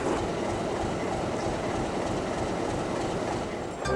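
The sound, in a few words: train travelling on rails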